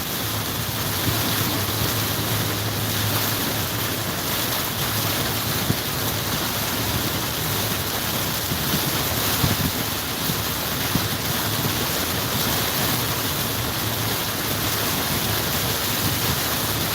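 Steady, dense rush of heavy rain pouring continuously, 7 to 8 inches falling, loud and close, with no voices throughout.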